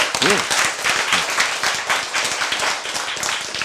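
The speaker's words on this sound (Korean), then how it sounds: "이거 박수 한번 해야 됩니다" Lecture audience bursts into loud applause, brisk crowded clapping that stays strong throughout, with a brief voice rising at the start.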